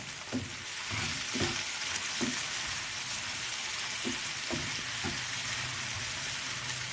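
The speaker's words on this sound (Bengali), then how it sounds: "এবার ভালো করে নাড়িয়ে চাড়িয়ে নেব।" Chicken masala with chopped tomato sizzles in a pan while a spoon stirs it, scraping and clicking in irregular strokes over a constant, fairly quiet hiss of frying.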